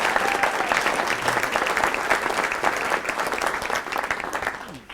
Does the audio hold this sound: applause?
yes